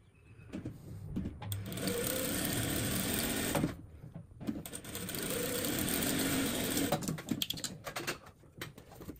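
A sewing machine stitches side seams joining fabric squares, running in two long steady whirring bursts split by a short pause, near and fairly loud, with softer clicks and handling around the starts and stops.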